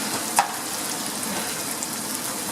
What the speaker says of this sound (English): right now we just want to get some color on the onions and let the onions really, really flavor the oil